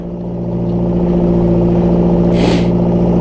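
A four-cylinder overhead valve tractor engine runs close and loud with a steady, humming idle, its pitch rising slightly as it picks up, with a brief hiss burst partway through.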